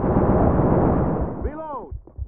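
A grenade goes off in a Counter-Strike-style video game match, a heavy booming blast that rolls out for over a second before fading, followed by a few short thuds and clicks.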